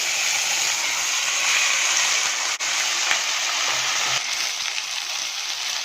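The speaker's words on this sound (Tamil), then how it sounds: "கொத்தமல்லி நல்லா வதங்கி கொஞ்சம் சுருங்கி வரும், அது வரைக்கும் வதக்கிக்கோங்க" Coriander leaves sautéing in a pan for chutney, a steady close sizzle and hiss that runs without a break, with a faint stir or tap now and then and no talking.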